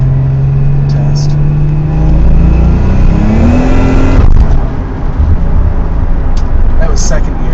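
A 1995 Nissan 300ZX Twin Turbo engine accelerates hard, its loud rising drone climbing steadily for about four seconds before a sharp drop at the shift, then settling into a rougher lower note as the car keeps pulling.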